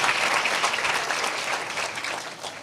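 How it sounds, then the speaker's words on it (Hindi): A live audience claps steadily through the whole stretch at a Hindi religious sermon, a dense, even wash of many hands fading only slightly toward the end. "आई डोंट नो हम लोग ताली क्यों बजा रहे"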